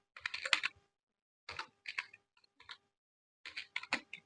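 Rust code being typed on a computer keyboard: three short bursts of rapid, close key clicks separated by brief pauses, with no talking.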